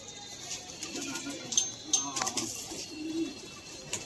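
Soft coos close by as pigeons are released, with a few sharper chirps and flutters over a quiet outdoor background.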